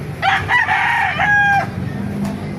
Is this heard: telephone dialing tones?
no